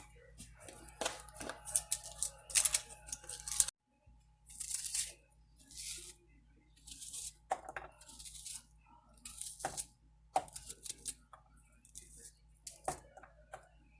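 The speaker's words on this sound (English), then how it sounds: "I'm going to go ahead and dice that up and add it to the kettle" An onion is diced with a knife on a board in a home kitchen, giving repeated sharp crunchy chops in irregular bursts with short pauses, close and fairly loud.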